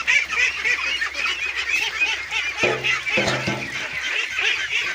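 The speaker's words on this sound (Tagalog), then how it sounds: "patuloy na kumakain talaga ng asula yung ating alang itik" Ducks eating azolla, with steady nasal quacking and honking from a flock throughout, close and loud, joined midway by a few louder bursts of calls.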